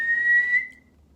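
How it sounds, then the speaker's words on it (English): A single clear, steady whistled tone from a person, held for about half a second and then fading out into quiet. "suddenly out came a real whistle"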